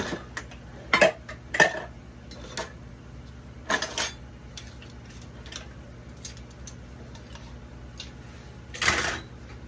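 A metal pan is taken out and shifted on a kitchen counter while making tortillas for enchiladas, giving a few scattered clanks and scrapes, close and moderately loud, with room hush between and no speech.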